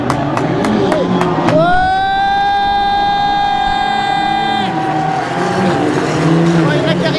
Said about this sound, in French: Tous les moteurs sont démarrés.